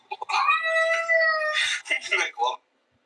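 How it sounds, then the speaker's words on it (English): A cat meows in a clip played back during a live stream: a sustained, wavering meow followed by shorter choppy cries, ending abruptly in silence. "So that's the Mlem Cat, right?"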